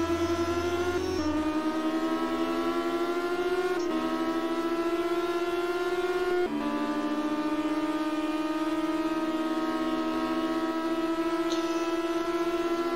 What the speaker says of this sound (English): we sit in silence a little bit down the straight as we listen to the engine